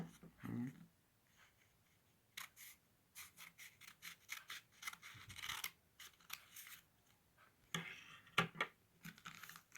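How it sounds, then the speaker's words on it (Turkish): Scissors snipping through paper while cutting robot legs for a paper robot craft, quiet irregular snips and rustles scattered over several seconds, close but faint, with a voice speaking softly at times. "Şu tarafı arkadaşlar keseceğiz."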